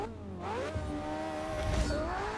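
A Porsche 918 in Forza 6 launches hard from a standstill, its engine revving up through rising gears with a brief shift dip, loud and close throughout.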